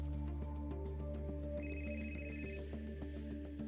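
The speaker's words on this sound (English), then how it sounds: "woke up to the sound of his phone ringing" A phone ringtone chimes repeatedly in a steady electronic pattern over a constant low hum, no voices.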